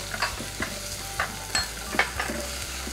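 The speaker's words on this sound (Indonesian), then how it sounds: "Kita juga tumis jahe ya." Ginger and galangal sizzle in a pan for pindang serani gurame, a moderate steady frying hiss punctuated by several sharp stirring scrapes and clicks at irregular intervals, with no voices.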